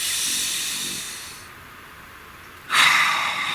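A single deep breath, close and audible: a long airy inhale that fades, a brief pause, then a stronger, rushing exhale.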